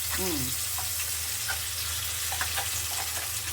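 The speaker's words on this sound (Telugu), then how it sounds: "పసుపు వేసేసుకొని ఇది మొత్తం బాగా వేపుకోవాలి." Amla pickle mixture with turmeric frying in a pan, a steady close sizzle over a low hum, with scattered light stirring clicks and a brief faint voice near the start.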